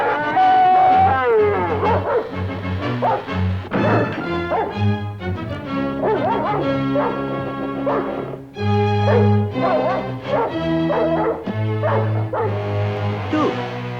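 A dog yips, whimpers and barks in a 1964 Disney adventure film, the calls carried over a loud, continuous orchestral score that dominates throughout.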